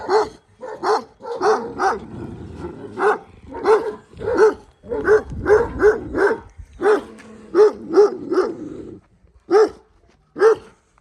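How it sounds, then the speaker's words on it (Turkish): A dog barks repeatedly in short, loud, close bursts, some yappy and some whiny, with brief pauses between them. "Köpek yeni geldi bize."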